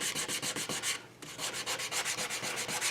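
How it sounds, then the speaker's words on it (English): Sandpaper is rubbed by hand over a cherry wood tray coated in shellac, making steady rhythmic back-and-forth scratching strokes, close and loud, with one short pause partway through. "This is just sanding with a purpose"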